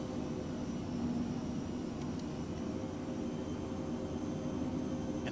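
Steady roar of Phenom business jet engines on a gusty landing approach to a short runway, a constant, fairly loud broadband rush with faint tonal whine and no talk over it.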